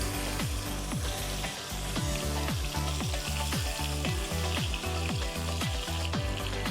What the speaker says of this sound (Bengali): এখন আমি গরম তেলের ভিতর কই মাছগুলো দিয়ে দেব।